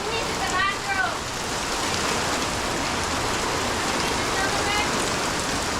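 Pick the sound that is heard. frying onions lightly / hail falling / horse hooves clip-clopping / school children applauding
hail falling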